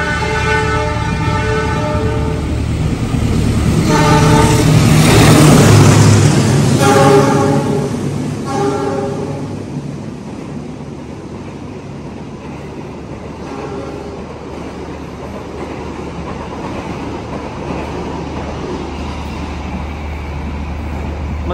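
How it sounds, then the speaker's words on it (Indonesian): The Ranggajati passenger train rumbles past Purwosari Station in Indonesia loudly, its horn blaring for several seconds early on, then the roar slowly fades into a steady distant rumble. "Itu ada kereta api Ranggajati."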